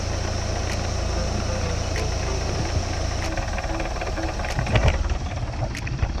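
A Mercruiser boat engine idles steadily as it warms up, a continuous low rumble with a faint ticking knock that runs throughout at an even level.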